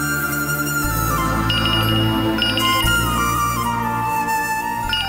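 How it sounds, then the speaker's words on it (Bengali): A mobile phone ringtone plays for an incoming call, a steady melodic electronic tune with repeating chiming notes, clear and continuous with no voices. "ম্যানেজার ফোন করছে, আমাকে বেরোতে হবে।"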